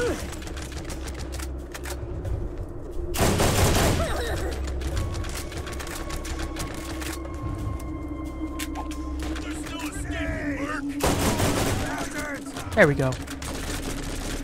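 Two loud, short bursts of burst-weapon gunfire in Borderlands GOTY Enhanced at Krom's Canyon, separated by several seconds, over steady game ambience while someone talks.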